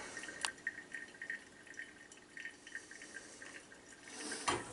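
Coffee dripping from a pour-over brewer after the fifth pour of water, faint sparse drips and trickles close by in a quiet room, with a small splash near the start and another at the end.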